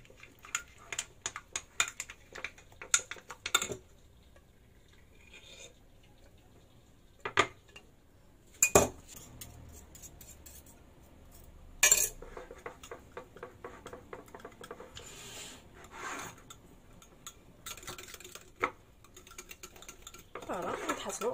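A utensil scrapes and taps against a pot while cream is stirred into chocolate ganache, making irregular clinks and soft pattering strokes that come in bursts with quiet gaps between them.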